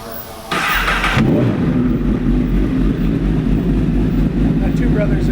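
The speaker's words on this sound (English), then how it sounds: "That Two Brothers exhaust really gives it a nice rumble." A 2008 Honda CBR1000RR fitted with a Two Brothers exhaust fires up and settles into a loud, deep, steady rumble close by, with a person talking over it.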